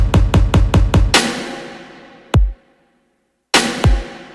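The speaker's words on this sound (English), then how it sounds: "we layered cinematic snare sound like this" Layered cinematic snare in a K-pop dance track: a quick run of rapid drum hits builds into a big reverberant strike, then single snare hits ring out after silence.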